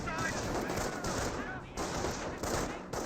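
Close-range rifle and machine gun fire in the Company of Heroes 1 real-time strategy game, a dense, continuous clatter of overlapping shots and bursts with brief dips, loud throughout.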